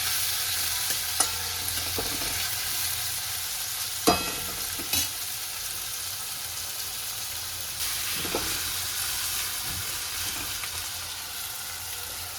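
Onions with salt frying in a pan give a steady close sizzle, broken by a few brief clinks and stirring knocks. No one speaks.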